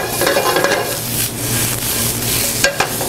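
Mushrooms sizzle and fry as they brown in a hot pan, a dense continuous crackle with a spoon stirring now and then.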